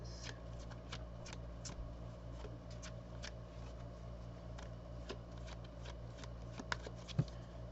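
A deck of tarot cards being shuffled and cards drawn, heard as faint, soft riffling and scattered light taps over a quiet background hum.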